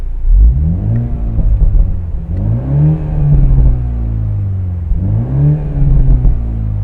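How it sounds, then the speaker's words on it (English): Exhaust note of a 2022 BMW Z4 sDrive30i, three swelling revs that rise and fall with a deep rumble and light burbles between them, close and fairly loud with no talk. "So let's see if we can hear some of the exhaust note here."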